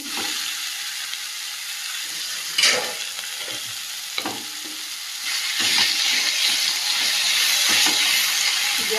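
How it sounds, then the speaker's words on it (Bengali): Taro flower goes into a pan of shrimp frying with spices, producing a soft steady hiss with intermittent stirring scrapes and a brief louder burst as it lands, the sizzle swelling toward the end. "মশলার সঙ্গে চিংড়ি মাছটা বেশ ভালোভাবে ভেজে নিয়েছি এই পর্যায়ে ছাপিয়ে রাখা কচুর ফুলটা দিয়ে দেবো"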